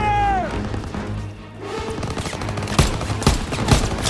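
Machine gun fire in the video game Call of Duty: WWII, with loud bursts and impacts crashing through dense battle noise, while brief shouted orders rise and fade.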